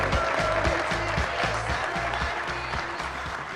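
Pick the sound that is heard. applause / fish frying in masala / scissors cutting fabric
applause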